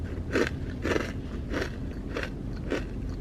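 Someone bites and chews a crunchy fortune cookie from Panda Express, five evenly spaced crisp crunches about half a second apart, close to the mic and fairly quiet, with no talking.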